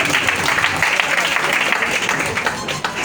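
A church congregation applauds during a worship service, giving a dense, steady wash of clapping that holds at an even loudness before tapering slightly at the end.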